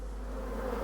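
Honeybees drone around an opened, partly dismantled hive on a hot sunny day, a steady close hum lasting under a second.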